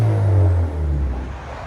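A 2016 Chevy Camaro with a 4-cylinder turbo and Dynomax exhaust reverses, putting out a steady low, throaty exhaust rumble close by that eases off slightly toward the end.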